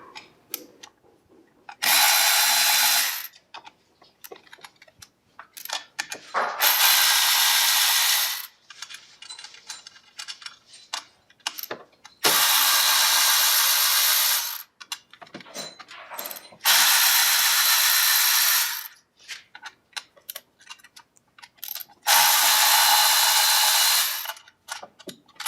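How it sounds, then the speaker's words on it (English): Power tools working on the primary clutch cover of a Polaris 850 Axys snowmobile: five loud, harsh whirring bursts, each lasting one to two seconds, separated by quieter pauses with faint mechanical clicks. "So now we're ready to go ahead and remove the primary clutch cover in order to get to the weights and replace the flyweights."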